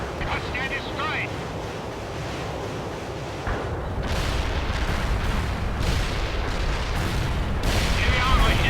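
Artillery fire in the war game World in Conflict rolls as a loud, continuous rumble of booming blasts, growing heavier and denser halfway through with rushing, wind-like roar layered over the impacts.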